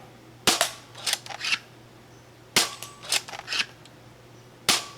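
Three sharp shots from a Flip Flop Foam Rush foam blaster, each a loud close crack spaced about two seconds apart and followed by lighter clicks and rattles of the mechanism being cycled, no talking.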